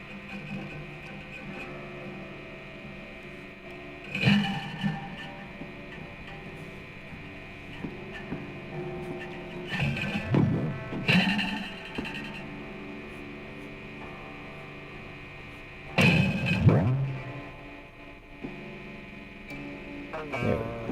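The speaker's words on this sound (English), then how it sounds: "This is the sound of restringing a guitar." A guitar being restrung on a Jackson while plugged into an amp: faint amp hum underneath, with scattered scrapes, clunks and string rattles popping out now and then, close and quiet.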